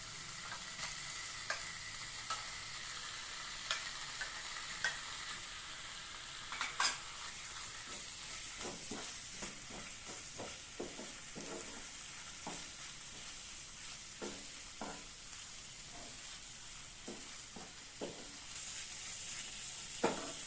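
Cleaned mutton liver sizzles quietly in a hot pan while a spoon stirs it, the soft frying hiss broken by repeated scraping strokes and taps against the metal.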